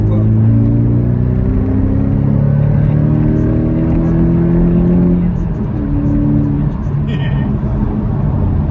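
A Porsche Cayman 718 GTS engine and exhaust, not in sport mode with the exhaust valves closed, hums as a loud steady low drone whose pitch shifts, with a person talking over it.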